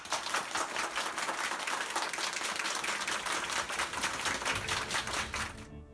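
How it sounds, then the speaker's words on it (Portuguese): Hospital colleagues in the corridors give a nurse a round of applause, a dense, lively burst of many hands clapping that runs for several seconds before cutting off abruptly near the end. "Os colegas de Mara homenagearam a enfermeira com uma salva de palmas nos corredores do"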